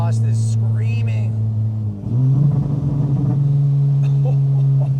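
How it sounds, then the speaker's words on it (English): A 600-horsepower Honda Civic Type R with a K20C engine and Tomei exhaust revs hard, a loud, sustained engine drone that dips briefly and then climbs again, heard close, with excited voices faintly in the background. "that Tomei exhaust is screaming"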